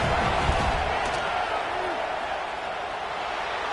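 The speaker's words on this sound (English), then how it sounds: "This crowd trying to do its part to get inside the kicker's head" A football stadium crowd roars steadily through a field goal attempt, a dense sustained wash of cheering and noise rising to full volume and holding throughout.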